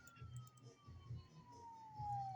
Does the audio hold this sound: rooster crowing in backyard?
no